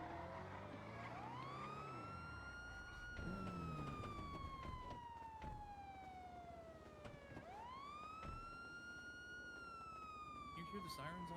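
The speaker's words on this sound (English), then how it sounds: "You hear the sirens on this sample?" Emergency vehicle sirens wail in GTA NoPixel, a police-style siren sweeping slowly up and down through two long cycles at moderate distance, with a voice speaking intermittently over it.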